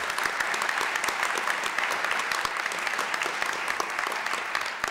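Loud, dense applause from the audience at Richmond's State of the City address honoring a city official, many hands clapping in a steady crackling wash with sharp individual claps, sustained throughout with no speech.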